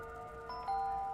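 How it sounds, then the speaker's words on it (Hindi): A household doorbell chimes once with a bright two-tone ding-dong, clear and steady, with no voices. "अरे फोन की नहीं, दरवाजे की घंटी है।"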